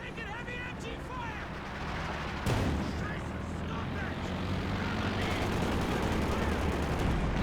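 A Brummbar artillery barrage in Company of Heroes 2 booms out amid continuous battlefield gunfire, with a sharp blast partway through and sustained rumbling afterward, while someone talks over the din.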